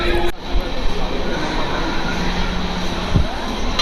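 LHB sleeper coach of the Bareilly-Prayagraj Sangam Express running, a loud steady rumble and rush of wheels on track inside the carriage with a brief clunk near the end.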